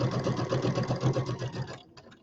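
A sewing machine runs at moderate speed along a long center seam of a pieced quilt, a rapid rhythmic whirring chatter that stops near the end, leaving a brief quiet tail.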